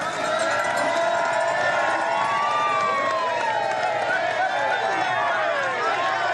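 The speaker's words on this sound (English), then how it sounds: "Pretty enthusiastic crowd, though." Enthusiastic roadside crowd cheering during a women's road cycling race at the world championships, a steady dense wall of shouts and whistles with a passing siren-like tone, loud and continuous throughout with some voices mixed in.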